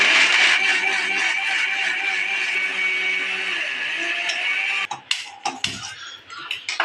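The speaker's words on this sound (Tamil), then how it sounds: "நம்ம மிக்சி ஜாரில் மாற்றியும் வச்சுட்டோம். இப்போ நம்ம அரைப்போமா? நல்லா ஃபைன் பேஸ்ட்டாக அரைப்போம்" A mixer grinder whirs loudly as it grinds masala into a fine paste for pea sundal, a steady high-pitched motor whine for about five seconds before cutting off, followed by clattering of the jar and utensils.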